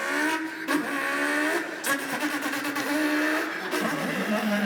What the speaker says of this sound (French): Fais les bruitages. On est en voiture?